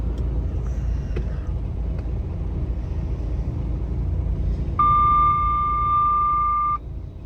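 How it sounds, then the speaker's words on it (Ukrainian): A car parking sensor beeps a steady electronic tone continuously for about two seconds, detecting a trailer, over the low rumble of the engine, with faint road noise throughout. "ще пищалка, що бачить кусок трейлера."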